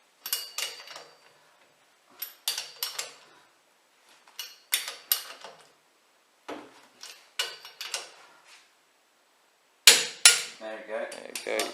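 Sharp mechanical clicks from a torque wrench tightening wheel spacer nuts on a Ford Ranger T6 pickup, in short clustered bursts with pauses between, close and fairly crisp, ending in a louder snap of clicks.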